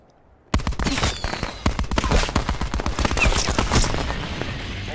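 Light machine gun fire in Black Ops 4, fired from the hip: after a brief quiet lead-in, a loud, rapid, unbroken burst of close automatic shots rattles on for several seconds with only slight dips.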